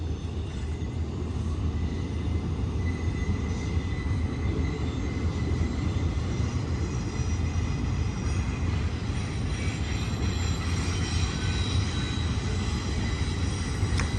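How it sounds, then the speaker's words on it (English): A Z freight train carrying FedEx, UPS and frozen-product trailers passes through Sullivan's Curve as an unbroken, even rumble of rolling cars with faint higher wheel tones above it. "It's actually a Z train."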